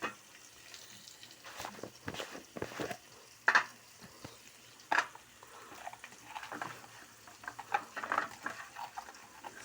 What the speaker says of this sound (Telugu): వేసుకున్న తర్వాత ఇంకా తిప్పండి, త్వరగా వేగిపోతాయి